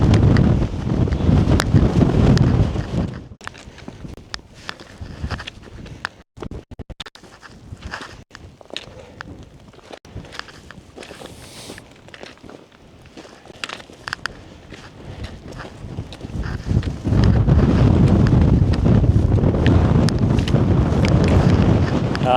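Strong wind batters the microphone on an exposed mountain ridge near Glencoe, heavy gusting roars at the start and end with calmer, patchier rustling and footsteps in between.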